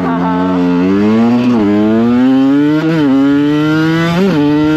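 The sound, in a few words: supermoto motorcycle accelerating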